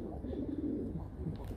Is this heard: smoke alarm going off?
no